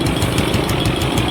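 A tractor engine runs steadily at close range, a dense, constant mechanical rumble with a faint knocking pulse and no pauses.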